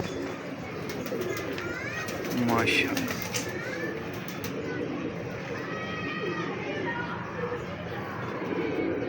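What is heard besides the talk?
pigeon cooing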